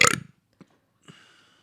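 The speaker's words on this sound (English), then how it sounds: "You burped, and then we stopped talking." A person lets out a loud, close burp at the start that tapers off, followed by near silence with a couple of faint, brief sounds.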